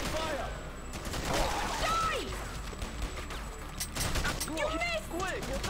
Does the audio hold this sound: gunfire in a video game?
yes